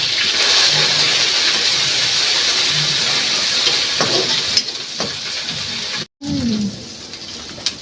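Crushed garlic and chili frying in hot oil in a pan, a steady loud sizzle that dies briefly toward the end before crackling back up, with a few faint knocks of stirring.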